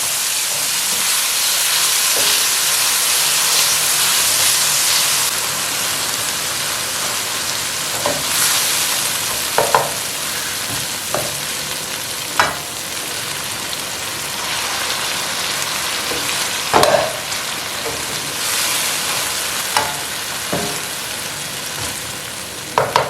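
Cabbage and potatoes with tomato and garlic paste cook in a pan, giving a steady loud sizzle and hiss with occasional pops and clicks throughout.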